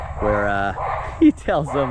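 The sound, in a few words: dog barking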